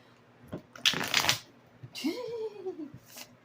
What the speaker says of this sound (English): That was a good shuffle, though.